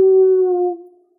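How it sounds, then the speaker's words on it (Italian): A single long wolf howl, loud and close, holding a steady pitched tone with harmonics before fading out after about a second, heard alone in a children's story. "Oh, che bel ululato."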